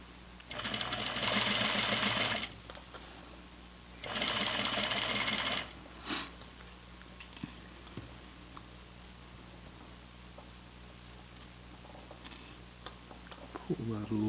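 A sewing machine stitches flannel pajama pants in two sustained whirring runs of about two seconds each. Quieter handling noises and fabric rustle follow, and soft speech comes in between the bursts.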